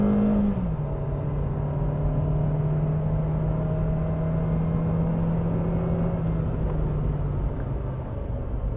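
A Daihatsu Sigra car engine revving high under acceleration, a steady loud drone with a whining tone that holds and rises slightly, heard from inside the cabin with no talking.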